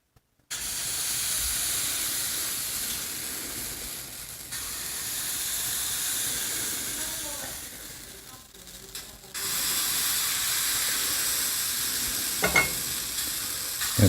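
Banana fritters made only of eggs and banana frying in a pan on a job site, a steady loud sizzle and hiss with brief dips, heard alone without talk.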